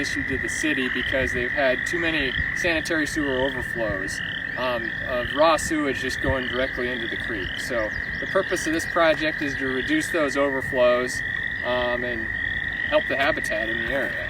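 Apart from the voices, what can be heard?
frogs croaking in a wetland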